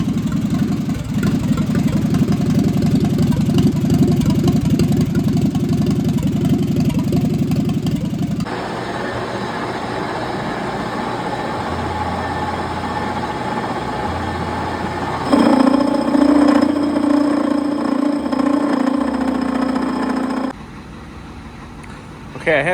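An old backwards Allis loader tractor engine test-started and running, a steady mid-pitched idle that shifts in tone partway through and then drops off near the end, loud and close with no voices.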